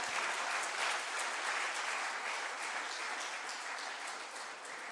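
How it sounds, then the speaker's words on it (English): A conference audience at an international gathering applauds a speaker with steady, dense clapping that holds at an even level for several seconds and fades slightly at the end, heard from a moderate distance with no voices. "Again, a round of applause for Mr. Ebo Kwesi"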